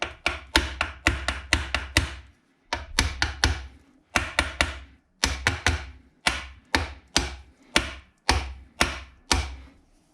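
Hammer tapping on KTM SX250 motorcycle engine parts during a timing and valve job, sharp close metallic knocks in quick bursts of three to five blows separated by short pauses.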